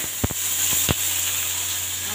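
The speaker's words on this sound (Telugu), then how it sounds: "ఇప్పుడైతే తాలింపు అయితే వేసేద్దాం" Tempering spices sizzle in hot oil in a pan for a Srikakulam-style horse gram kattu, a steady close hiss punctuated by a few sharp pops near the start.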